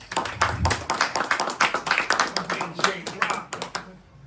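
Audience applause for a guest speaker at a music and entertainment hall of fame event, a burst of clapping from a room of people lasting about four seconds before fading out.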